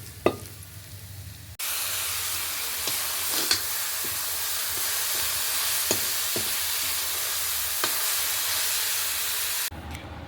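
Vegetable curry sizzles and hisses steadily in a hot pan as it is fried and tempered, a loud continuous crackle with occasional clinks of a spoon, breaking off abruptly near the end.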